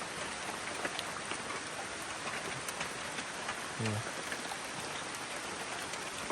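Rain falls on a durian orchard deep in the forest as a soft, constant hiss of drops on leaves and surfaces, steady and fairly quiet throughout.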